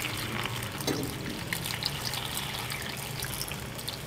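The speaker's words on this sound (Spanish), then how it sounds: "le vamos a vaciar el agua." Water pours steadily and continuously into a cooking pot holding green onions and a garlic clove, a close, even gushing stream with no talking.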